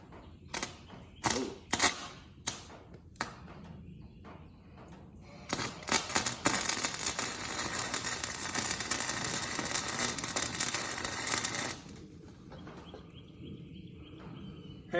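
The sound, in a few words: wire-feed welding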